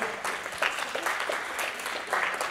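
An indoor audience at a contest event claps steadily, producing dense, continuous applause of moderate loudness that runs for the whole stretch without any voices over it.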